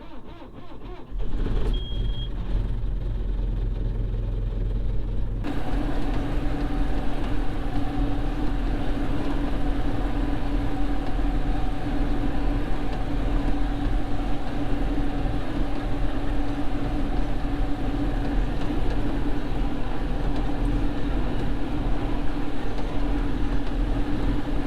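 A John Deere 6310 tractor runs with a 1996 New Holland slasher during hay cutting, a steady loud engine drone with a droning mechanical hum that kicks up sharply after a few seconds and holds constant.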